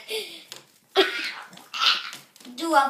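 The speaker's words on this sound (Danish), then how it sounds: "Din dogne hund." A dog makes close, breathy whines and grunting vocal sounds in uneven bursts, with short pauses between them.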